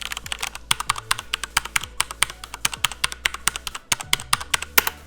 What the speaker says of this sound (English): I love the way this thing sounds